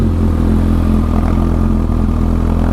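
A 2013 Kawasaki ZX-14R motorcycle with a Yoshimura aftermarket exhaust idles steadily up close, a loud, even, throaty rumble with a slight clattering pulse and no voices.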